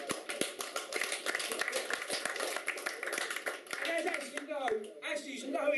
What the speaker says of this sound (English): Give him a round of applause for that anyway.